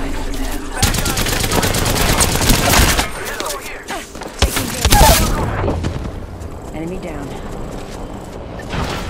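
Rapid bursts of automatic gunfire and heavy shots in the Apex Legends shooter game ring out loud and close, with booming impacts and short pauses between volleys, mixed with in-game voice callouts.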